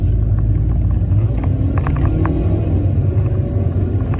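Low, continuous rumble of cars in traffic, loud and enveloping, with faint clicks and small sounds scattered over the steady drone.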